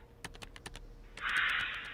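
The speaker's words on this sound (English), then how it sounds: "you just make typing sounds, it kind of gives the illusion that they're typing" Quick keyboard typing for a Spartan working at a terminal, a short run of separate key taps followed by a denser burst of clattering keystrokes, close and clear with no talking.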